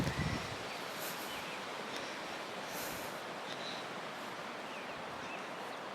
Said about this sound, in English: you can hear the river in the background going along.